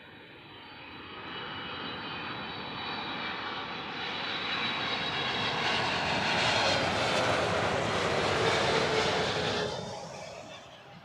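A jet airliner coming in to land at Heathrow Airport, a broad engine roar that swells over several seconds, peaks, then fades as it passes at moderate distance.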